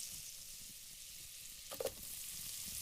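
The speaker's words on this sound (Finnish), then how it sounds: "Voi tirisee pannulla." Butter and pancake batter frying in a pan, a soft steady sizzle held quietly in the background, with a brief clink near the end.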